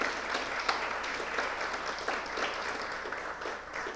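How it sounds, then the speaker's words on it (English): Steady audience applause at a community panel event, a dense wash of clapping that holds at an even, moderate level for about four seconds with no talking over it. "Round of applause for Kate Quinn"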